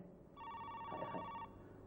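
A telephone rings once with a bright electronic trill, fairly faint, over a quiet background.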